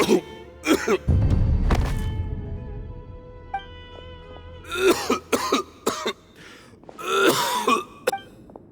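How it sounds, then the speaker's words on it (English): Several sharp coughs and throat-clearing bursts, some in quick clusters, loud and close, separated by quieter pauses with a low thud early on. "Why is he coughing so much?"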